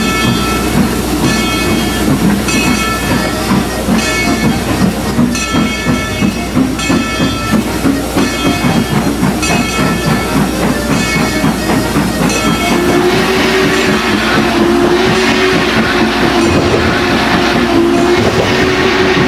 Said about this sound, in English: Number 14 it departs,